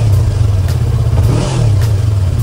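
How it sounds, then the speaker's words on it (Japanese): A 2020 Yamaha YZF-R25 with its stock muffler idles close by with a loud, even low thrum, then rises in one brief rev midway before settling back to a steady idle. "これがアイドリングですね。"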